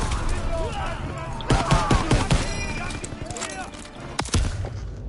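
Rapid bursts of wartime gunfire from Call of Duty: WWII crack close by in irregular volleys, with a voice talking over the shooting throughout.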